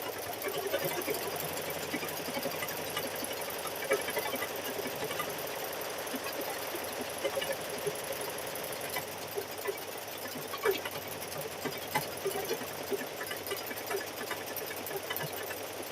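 A quilting machine stitches a design across a quilt, giving a steady, quiet, rapid whir with tiny repeating ticks that holds evenly throughout, with no talking over it.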